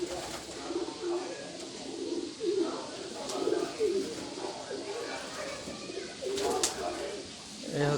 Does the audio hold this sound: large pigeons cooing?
yes